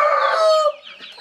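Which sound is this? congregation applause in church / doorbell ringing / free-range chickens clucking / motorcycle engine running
free-range chickens clucking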